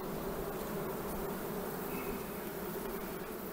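Honeybees from a small package colony buzz in a steady, dense drone from an open hive during queen introduction work, a continuous close swarm hum with no voices.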